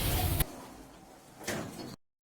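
Lift doors in a shopping mall slide closed with a soft rumbling glide, then a firmer thud as they meet, close and moderately quiet before the sound cuts off.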